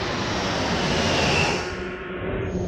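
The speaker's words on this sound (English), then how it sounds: "It's a drone." A drone buzzes overhead as a steady, loud broadband engine drone that stays fairly even for a couple of seconds, easing slightly near the end.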